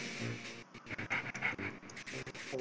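A dog pants in quick, steady breaths close by, with brief soft whimpers mixed in and video game sounds running underneath.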